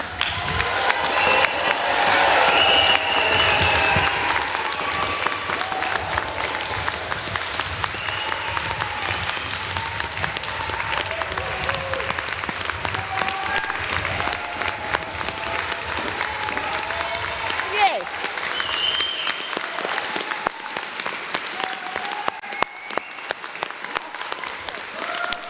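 Sustained applause from the audience at a university convocation ceremony, steady dense clapping filling the hall for a long stretch, with a few faint voices under it and the clapping thinning toward the end.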